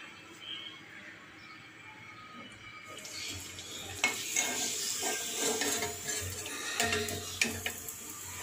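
Dough dropped into hot oil and frying, a quiet background turning into a louder bubbling sizzle with clinks and crackles partway through.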